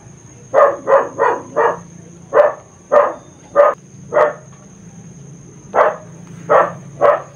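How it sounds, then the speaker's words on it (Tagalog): A dog barks repeatedly in a backyard at night, eleven sharp barks in irregular bursts over a steady low hum, moderately loud and a little distant, with no talking. "Yung aso palaging tahol na tahol sa kapitbahay."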